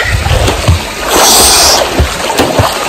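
Water splashing close by as a boy learns to swim for the first time, irregular sloshing bursts and a longer rushing splash in the middle, with no talk.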